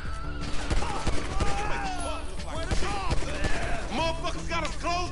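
Rapid pistol and SMG gunfire in the video game GTA 5, loud overlapping shots in quick bursts with voices talking throughout.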